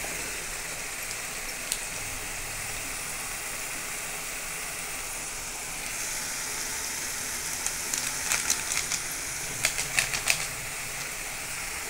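Chickpea masala with red chili powder, green masala and salt fries in a pan, giving a steady close crackling sizzle, with sharper scraping and clicking stirring strokes toward the end.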